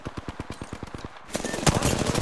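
Video game automatic gunfire rattles in a steady rapid burst of evenly spaced shots, then a louder, denser mix of overlapping fire and impacts takes over, no talking.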